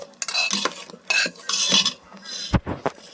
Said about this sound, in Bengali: এখন আবার আরও নারকেল দিয়ে দিচ্ছি